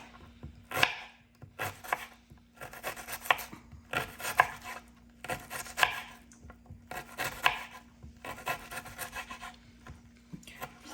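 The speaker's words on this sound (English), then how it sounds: "we need to cut it up so we can fry the onion and put it into the cabbage" A knife chops a peeled onion on a board for stewed cabbage, giving bursts of rapid scraping and rubbing strokes separated by short pauses, close and fairly clear.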